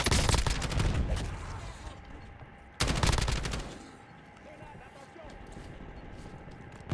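Gunfire in Call of Duty Warzone comes as rapid bursts of loud automatic shots, one burst at the start and another a few seconds later, then quieter game ambience with some game voice chatter.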